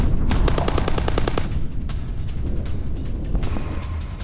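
Israeli forces fire on a Hezbollah post in southern Lebanon. Loud rapid machine-gun bursts crackle in quick rhythmic volleys, then a sustained rumbling barrage continues, with further shots near the end and no talk.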